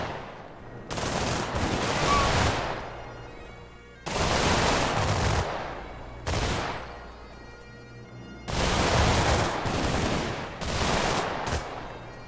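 Heavy gunfire aimed at zombies in a survival video game, rapid volleys of loud shots in several bursts separated by short pauses, with no talk over it.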